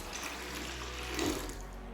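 Water poured from a container into a bucket of paint, a brief splashing gurgle swelling near the end over steady background noise, with no talking.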